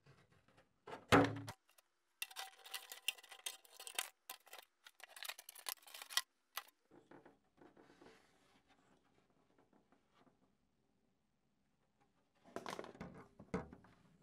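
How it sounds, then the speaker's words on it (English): Excess clear plastic trimmed from a Tamiya Honda Civic WTCC polycarbonate body shell for a TT-01 touring car, heard as close, irregular bursts of snipping and scraping separated by quiet pauses, with no talking. "So just carefully cut away the excess plastic."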